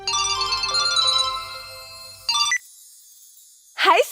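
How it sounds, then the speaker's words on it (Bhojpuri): A mobile phone rings with an incoming call, a bright electronic melody playing loudly for about two seconds, then a short burst of the same tune, followed by a sharp rising chirp at the end. No one speaks. "तब मेरी सहेली सोनिया का फोन आया।"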